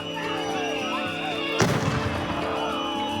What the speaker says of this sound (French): suivie de tirs de gaz lacrymogène et de grenades de désencerclement